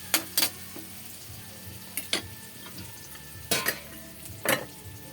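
Pork leg for humbang pata simmering in a pot with onion, garlic and black beans, a steady low bubbling bed broken by several sharp spoon-against-pot clanks at irregular intervals.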